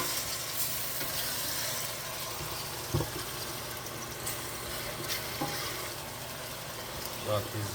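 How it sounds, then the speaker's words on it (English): Seasoning sautéing in a pan for a Jamaican sardine and cabbage dish, a steady soft sizzle with occasional clicks and stirring knocks, and a voice talking over it at times. "You have the seasoning sauteing down properly."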